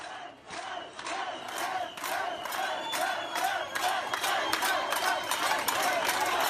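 A protest crowd in Istanbul shouting in unison, loud rhythmic chanted bursts repeating roughly every half second over a steady roar of many voices.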